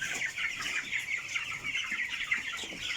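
A flock of 21-day-old broiler chickens on a farm, a continuous dense chorus of soft clucks and chirps, close and steady, with no talking.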